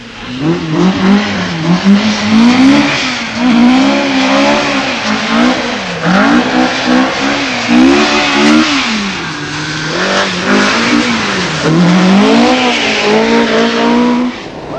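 Rally Ford Escorts race flat out on twisty tarmac stage roads at Bewdley Safari Park, their engines revving loud and close with a rising and falling pitch through gear changes and corners.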